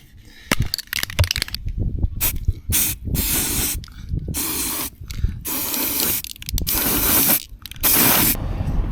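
An aerosol can of spray paint sprays in repeated loud hissing bursts of a second or two each, separated by short pauses, close by, inside a Mercedes Sprinter van.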